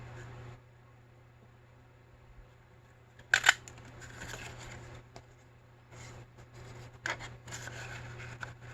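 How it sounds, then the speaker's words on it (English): Scissors snip out paper hearts for a crafting project: a few quiet, scattered cuts and rustles over a steady low background hum. "here I'm going to cut out some hearts"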